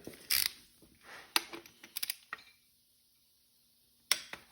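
A ratchet wrench torques bolts on an Audi A4 2.0T engine, producing quiet, close bursts of metallic clicking with short gaps and a longer pause before a final crisp click.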